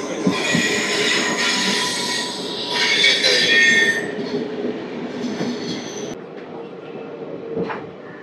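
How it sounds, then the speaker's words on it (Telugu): A passenger train arriving at Bitragunta railway station, its steel wheels squealing loudly and continuously on the rails, with shrill high-pitched screeching that eases toward the end as the rolling rumble continues. "ఇప్పుడే స్టేషన్ నుంచి ఒక ట్రైన్ అయితే వస్తుంది."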